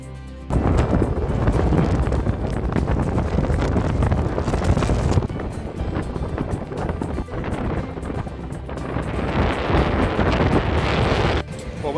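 Gale force wind buffets the microphone on a seaside promenade on the Norfolk coast, a loud continuous roaring rumble across nearly the whole stretch that briefly eases before gusting back in.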